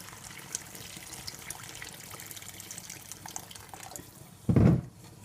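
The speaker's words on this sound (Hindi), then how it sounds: "अब इसके अंदर मैंने पानी डालना है।" Water is poured into a pot of lamb curry in a home kitchen as a short, loud splashing gush lasting about half a second near the end, after a quiet stretch of faint kitchen noise.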